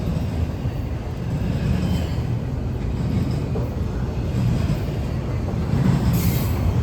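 A Norfolk Southern freight train pulls out and rumbles steadily nearby with a deep, continuous roll. A faint squeal of wheels rises near the end.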